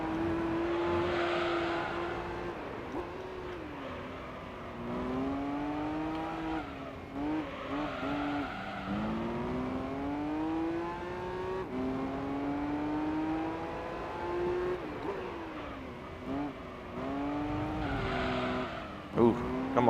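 A Nissan 400R race car in Gran Turismo 3 drives continuously, its engine rising and falling through gear shifts and revs with some tire squeal, while a voice talks over it.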